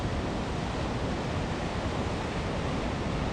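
Big ocean waves break on a rocky, wet Pacific coast, a dense, steady roar of surf mixed with wind that stays loud and unbroken throughout.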